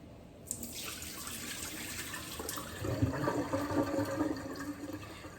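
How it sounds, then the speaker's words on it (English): Chopped soup ingredients for homemade chicken soup rinsed under a running tap, a steady close stream of water that grows louder and splashier midway as the pieces are moved under it. "And we're just going to give them a little rinse."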